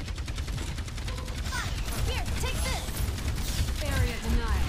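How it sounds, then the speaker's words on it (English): Rapid minigun fire from the Overwatch 2 video game rattles through a busy match, with dense bursts of shots, electronic effects and a player speaking over the action. "Killed me with a damn minigun."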